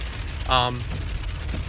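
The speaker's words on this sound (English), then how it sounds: "Sorry about the noise, it's raining." Rain falling outside, a dense broadband hiss with heavy low rumble filling the whole moment, with a brief voice-like tonal sound briefly rising above it.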